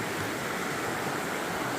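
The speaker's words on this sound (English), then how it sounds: "Nice little creek or whatever, river. I like to say stream better" A small creek rushes under a bridge on the Appalachian Trail, a dense, even broadband wash of flowing water heard up close and alone, with no voices.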